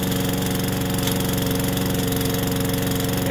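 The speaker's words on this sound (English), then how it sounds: "It also says to push this 3 times before we" Gas push lawn mower engine running, a loud, steady, close mechanical drone with a rapid regular chug and no voices.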